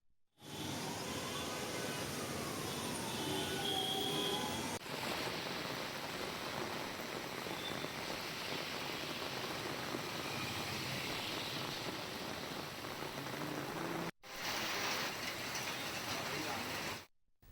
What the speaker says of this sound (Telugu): ఉరుములు ఈదురుగాలులతో భారీ వర్షం కురిసింది